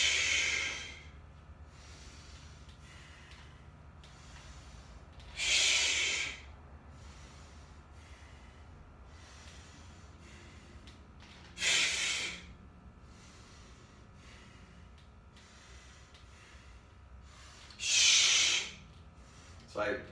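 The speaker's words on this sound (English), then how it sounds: "I exhale through the mouth, making that kind of compressed air sound" Three sharp, forceful exhales pushed out through the mouth during high rows, each a brief hissing burst of compressed air spaced several seconds apart over quiet breathing and faint background hum.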